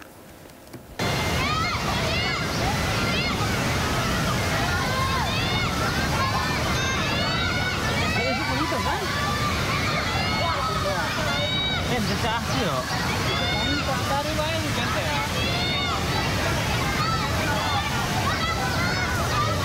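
Primary and middle school students wade across a swollen river in Pandeglang, Banten, with continuous sloshing and splashing water close by and children's voices and chatter mixed throughout.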